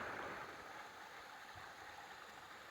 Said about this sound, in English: Nice little trickling seasonal creek, or creek.